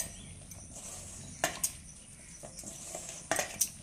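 A spoon stirs a rice flour mixture in a bowl, producing faint scraping with a few sharp metallic clinks spaced a couple of seconds apart.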